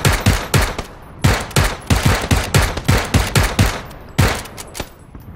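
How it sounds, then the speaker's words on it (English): Rapid bursts of automatic gunfire in PUBG, aimed at a Jeep, crack out in repeated clusters of loud shots with brief gaps between volleys. "Just shoot the Jeep."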